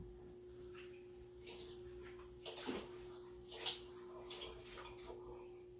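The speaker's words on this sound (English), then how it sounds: "I'm gonna do a quick rinse." Quick rinse under running water in a home kitchen, a soft continuous tap stream with faint splashes and clatters, quiet and fairly close.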